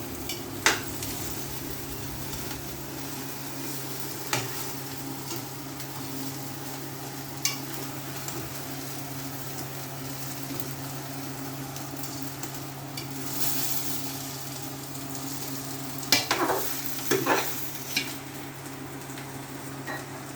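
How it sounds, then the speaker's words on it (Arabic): Sugar stirred quickly in a hot pan, giving a soft continuous sizzle with occasional sharp clicks and scrapes of the utensil against the pan, quiet and with no talk. "بس انا بقلب بسرعة عشان السكر بتاعتي بتعداني"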